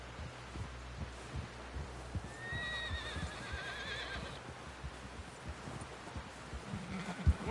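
A horse in the video game Red Dead Redemption 2 gives a drawn-out whinny over steady hoof clip-clops and a low background hum, heard at moderate distance.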